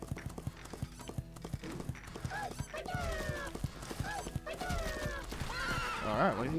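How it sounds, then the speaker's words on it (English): Horses in the video game Bolt Bot whinny and neigh loudly over clip-clopping hooves, several rising calls arriving one after another in a short burst of game audio. "Should have expected the horses."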